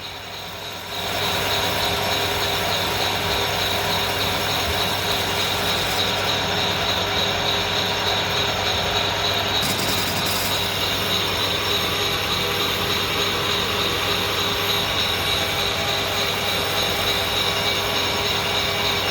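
A metal lathe cutting steadily with a high-speed steel cutter on an old piston in a vintage workshop, a loud continuous machine whine and hum with no talk, starting about a second in.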